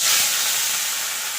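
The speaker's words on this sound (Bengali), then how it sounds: "দেখুন বন্ধু, তেলটা গরম হয়ে গেছে। মাছটা দিয়ে দেবো।" Pieces of katla fish hit hot oil in a pan, producing a loud, bright hissing sizzle that starts strong and eases slightly as it continues.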